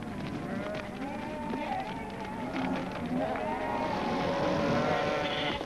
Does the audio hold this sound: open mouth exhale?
no